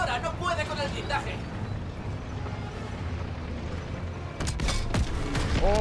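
Machine-gun fire rattles against an armored tank in the World War II shooter Call of Duty WWII, a dense barrage of shots and blasts that swells toward the end, with voices mixed into the game sounds.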